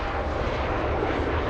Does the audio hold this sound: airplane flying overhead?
yes